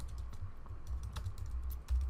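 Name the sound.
typing on a computer keyboard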